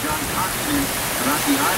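Rain falls outside in a steady, fairly loud broadband hiss of drops, with a faint voice murmuring underneath.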